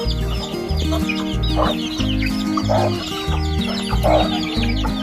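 Several chickens cluck and murmur close by in overlapping bursts, with occasional louder squawks, over a constant low background hum.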